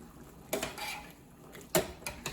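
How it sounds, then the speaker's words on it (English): Rinsed kidney beans go into a simmering pot, heard as a few close clattering knocks of a can or utensil against the pot with soft sliding rattles between them, fairly quiet. "I've rinsed and drained my beans. I'm gonna add those."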